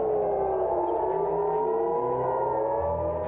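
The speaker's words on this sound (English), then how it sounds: "Sirens were heard in central and northern Israel today" A loud, wailing civil defense air raid siren rises and falls steadily in Israel, with overlapping siren tones sounding across the whole stretch.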